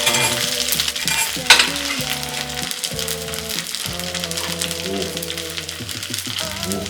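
Korean chive pancake (buchujeon) fries in a pan with a continuous crackling sizzle, close and loud, with occasional utensil clinks and music playing underneath.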